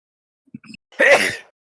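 A single short sneeze sounds after a couple of faint small sounds, then silence.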